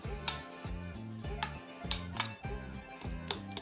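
A utensil stirs pepper paste and tomato paste into olive oil in a bowl, giving a quiet, steady rhythm of clinks and scrapes against the bowl with no talking.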